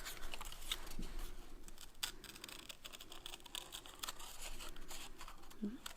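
Scissors snip through origami paper to shape a ballerina's little bun, giving soft crisp cuts and paper crinkles under quiet background talk.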